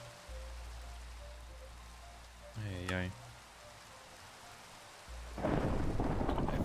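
Rain and thunder in the Minecraft-based modpack Monifactory, a low rumbling bed with a sudden burst of hissing rainfall near the end; a man calls out briefly over it.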